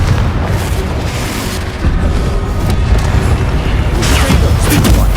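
Confringo spell blasts in Hogwarts Legacy burst out as loud, dense booming explosions, with sharp crackling impacts stacking up over several seconds.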